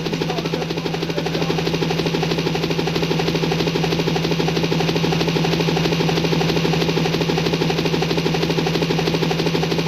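A steady mechanical helicopter-like drone plays as a sound effect in a Hindi nautanki stage drama in Raebareli, a constant even whir at moderate level with no talk over it.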